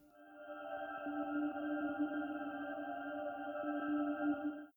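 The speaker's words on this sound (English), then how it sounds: "The next sound you hear is a bell that is extremely reverberated." A heavily reverberated bell pitched on D from Majora's Mask game music rings over a sustained synth chord, swelling softly and holding steady before cutting off.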